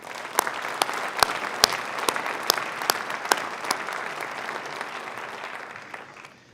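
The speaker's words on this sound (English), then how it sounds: "Please join me in one more round of applause" Applause at a graduate commencement ceremony, a steady wash of many hands clapping from a large audience with sharp nearby claps standing out, sustained for several seconds before tapering off.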